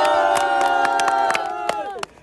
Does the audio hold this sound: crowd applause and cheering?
yes